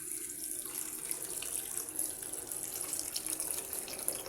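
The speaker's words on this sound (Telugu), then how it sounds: "ఇప్పుడు ఇందులో వాటర్ అనేటివి వేసేసుకున్నాం" Water is poured into a cooking pot of chicken pieces, making a steady, soft, continuous rushing splash throughout with no voices.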